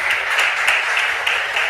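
An audience at a regional school quiz contest applauds a school, a dense, loud wash of clapping hands that continues steadily throughout the brief moment.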